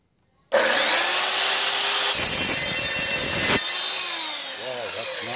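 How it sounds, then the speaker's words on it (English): An Evolution 7-1/4 inch EVOSAW180HD circular saw cuts through rebar clamped in a vise, a loud, close, harsh grinding whine that starts abruptly, holds steady for several seconds, then winds down with the motor's fading hum. "Okay, so let's start with this rebar. Let's cut that now."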